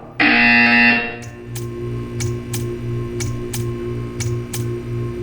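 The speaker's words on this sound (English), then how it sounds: "You will hear a buzzer." A loud, harsh buzzer in Portal 2 blares for about a second, then a low hum continues with sharp regular ticks repeating every half second.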